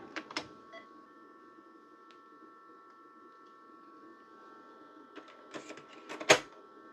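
A Tandy 1000HX computer's floppy drive boots from a 720K disk, giving a few short clicks and seeks at the start, a quiet hum in between, then a burst of rapid clicking and a sharp clack near the end.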